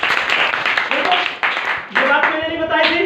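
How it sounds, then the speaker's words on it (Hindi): Students clapping in a classroom, a burst of quick, uneven hand claps from several people close by, mixed with voices speaking over them. "बजाओ ताली।"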